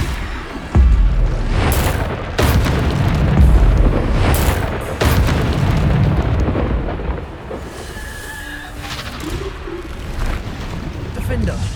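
Bombarda blasting-spell explosions in a Harry Potter-style video game: several deep, rumbling booms, loud and close, that roll like thunder over dense game noise, with a voice heard at times.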